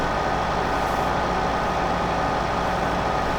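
A tractor pulling a heavily mounded 35,000-litre trailer in Farming Simulator 2015 gives off a steady, low engine drone with a constant broadband rumble and no breaks.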